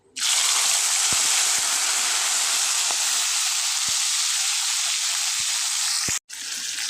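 Spice-coated raw fish hits hot oil in a pan with a loud, sustained sizzle that runs steadily for several seconds, with a few faint clinks, before briefly cutting out and resuming.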